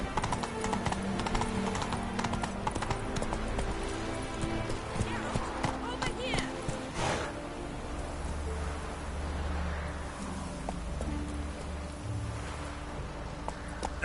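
Roach the horse from The Witcher 3 trotting, a steady rhythmic clip-clop of hooves running under a game soundscape with a voice speaking.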